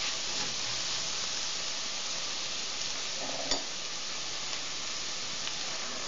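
Sorrel soup ingredients are stirred in a kazan over steady sizzling frying, with one faint scrape partway through and no voices.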